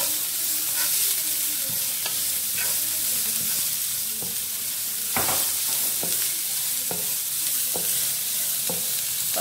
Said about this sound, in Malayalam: കുറച്ച് ഉപ്പിട്ട് കൊടുത്തു ഒന്ന് ഇളക്കി.